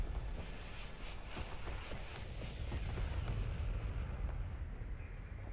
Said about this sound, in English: Okay, pulling in an airstrike.